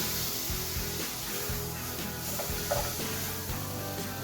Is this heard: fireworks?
no